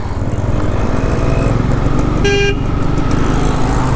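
A Bajaj Pulsar N250 motorcycle gives one short, thin honk of its horn over a loud, steady engine rumble, close by.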